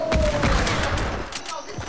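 Rapid bursts of Fortnite gunfire crackle loudly through most of the stretch, with dull thumps mixed in and a voice talking over the shooting.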